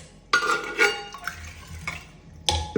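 Soaked rice, green gram and fenugreek being moved into a pressure cooker: close metallic clinks and scoops of a vessel and spoon, a few distinct knocks with soft wet shuffling between, no talking.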